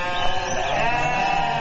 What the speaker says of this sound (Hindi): अरे पीछे भेड़े क्यों मिमिया रहे हैं?